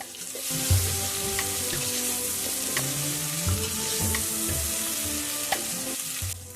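Carrots and other vegetables with tomato and ginger-garlic paste stir-fried in a pan over a wood-fired stove, a steady close sizzle broken by scraping stirs and light clinks, with no voices.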